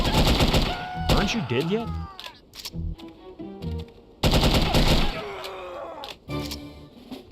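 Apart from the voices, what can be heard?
automatic gunfire in the video game No One Lives Forever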